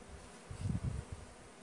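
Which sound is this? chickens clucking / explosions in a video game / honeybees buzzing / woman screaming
honeybees buzzing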